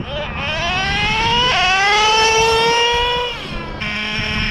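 A nitro Traxxas Revo RC truck with a two-speed transmission screams as its small engine revs, pitch climbing sharply, jumping after a gear shift, then dropping off and picking up again, loud and close.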